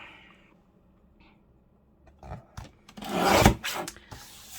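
A mini file divider card is cut near the end with a short burst of close, scraping and rasping sounds after a quiet stretch.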